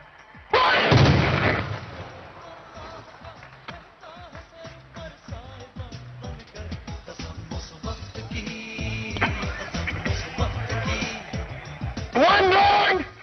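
A regiment artillery gun fires one round, a loud broadband blast near the start followed by a long rumbling decay, with Hindi commands spoken before and after and a second burst near the end.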